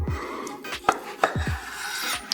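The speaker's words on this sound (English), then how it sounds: "we're just going to slice a few slices of this" A knife slices cured salmon with fennel and citrus on a board, giving several soft separate strokes with light clicks and scrapes, close and fairly quiet, with no talk.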